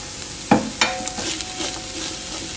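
Onions and garlic sizzle in a hot pan and a spoon stirs them, with a couple of sharp scrapes early on and a steady close frying hiss after that.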